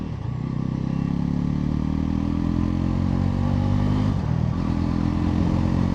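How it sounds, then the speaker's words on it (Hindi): A 2025 Bajaj Pulsar NS 400Z motorcycle in sport mode runs steadily, close and loud, with brief dips in engine tone as gears shift without the clutch. "अब देखो विदाउट क्लच में शिफ्ट करूंगा"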